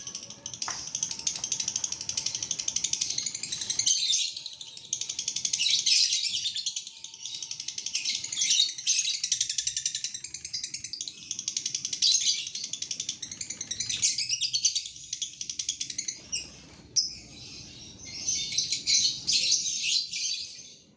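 A lovebird chirps and sings almost nonstop, a bright, rapid stream of high twittering trills and ratchety chatter close by, pausing only briefly between phrases.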